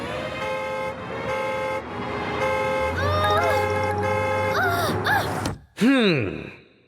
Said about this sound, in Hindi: अरे भाई साहब कितना हॉर्न बजाते हैं आप?